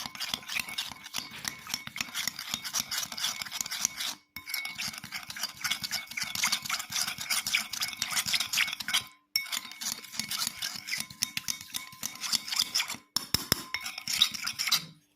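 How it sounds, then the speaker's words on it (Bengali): A spoon or whisk stirring cookie batter with buttermilk in a bowl, fast continuous scraping and clinking against the sides, close by, broken by three brief pauses. "এবার সব উপকরণ আবার মিশিয়ে নেব।"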